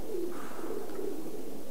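A racing pigeon gives a soft, low coo, two short throaty rolls close to the microphone with no talk over them.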